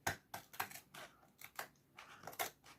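Scissors snip repeatedly through paper or card while crafting a Gorjuss kit, about ten crisp, close, fairly quiet cuts in an uneven rhythm, with no voices.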